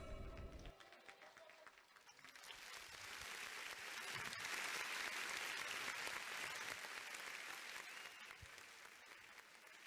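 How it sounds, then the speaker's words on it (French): Audience applause at a young people's cultural day gathering in Le Havre, a loud, dense clapping crowd that swells and holds steady for several seconds, with some voices mixed in. "Applaudissez plus fort aussi."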